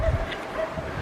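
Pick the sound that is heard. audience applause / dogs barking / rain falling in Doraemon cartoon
dogs barking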